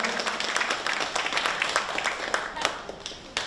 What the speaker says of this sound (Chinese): 给你们一个掌声，鼓励一下